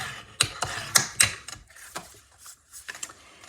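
Cardstock is folded in half and creased with a bone folder, giving close, crisp crackles and short scraping strokes in irregular bursts separated by brief quiet gaps.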